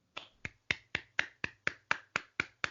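Eleven sharp hand claps in a quick, even rhythm, close and crisp in an otherwise quiet room, with no talk over them.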